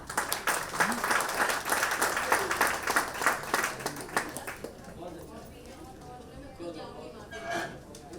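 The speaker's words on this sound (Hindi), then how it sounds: "बहुत जोरदार तालियों के साथ" Audience applause at a satsang samiti event, dense clapping for about four seconds that fades out, leaving quieter room sound with faint sporadic claps near the end.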